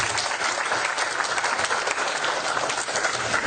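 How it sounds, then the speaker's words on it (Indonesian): An audience at a religious lecture claps steadily and loudly throughout, a dense, even wash of many hands, with no voices breaking through. "Dan sekali lagi tepuk tangan untuk beliau."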